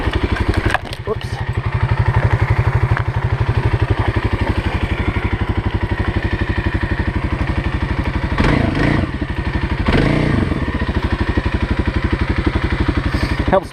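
A Kawasaki KLX 351 dual sport motorcycle rides off road with a loud, continuous engine drone that surges and labours in places, plus occasional clattering thumps over rough ground.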